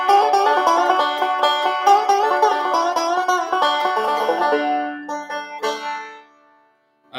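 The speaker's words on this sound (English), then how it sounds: "obviously like the high break, the banjo goes like this." A banjo plays a soft, high break of quick, bright plucked notes that thin out and fade near the end, heard up close and alone.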